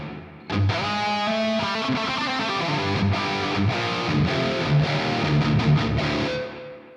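Distorted high-gain metal guitar through an amp simulator with slow, high-feedback delay and reverb: a chugging riff with sustained chords and trailing echoes that ring out at the end.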